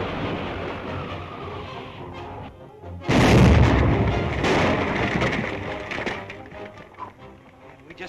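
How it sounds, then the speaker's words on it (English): A loud explosion in a 1937 film bursts in abruptly after a quieter rumbling lead-in, then a long rolling rumble and debris tail that fades over several seconds. "Spider will think we've been killed by the explosion"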